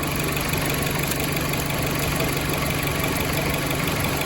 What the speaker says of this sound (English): you can hear the misfires and stuff start to happen